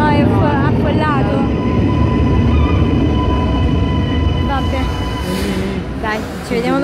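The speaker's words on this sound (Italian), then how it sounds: "No, questo no, però il treno sì. Sta arrivando." A train pulls into a station in Milan with a loud, continuous rumble and sustained tonal whine from the wheels or motors, while voices talk nearby.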